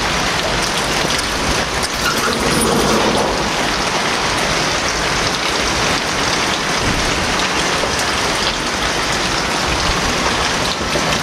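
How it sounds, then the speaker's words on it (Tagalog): Steady, heavy rain pours down continuously, a dense hiss of drops spattering on surfaces with no voices. "Hindi pa rin tumitigil yung ulan."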